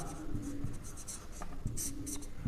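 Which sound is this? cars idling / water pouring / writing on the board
writing on the board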